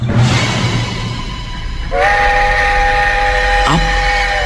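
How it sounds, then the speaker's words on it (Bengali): An approaching train, used as a sound effect in a Bengali radio drama, rumbles loudly, then sounds a sustained, blaring horn that holds steady for several seconds before a short pitch shift. "হুস হুস করে তেড়ে আসছিল একটা আওয়াজ রেলগাড়ির আগমনী কানে আসতেই আমি চমকে উঠলাম"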